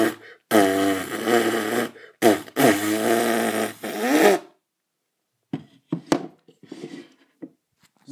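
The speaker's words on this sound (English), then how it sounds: "Yay! I farted on you" Two long, loud, buzzing fart noises, close and blaring, followed by scattered quieter rustles and taps.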